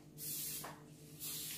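A trigger bottle sprays cleaner onto indoor chairs in two quick, hissing spritzes, close and fairly quiet against a faint room hum.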